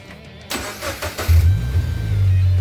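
A Subaru BRZ with a newly installed oil cooler and catch can cranks with a few quick chugs, then fires into a deep, steady idle close by. There is no talking.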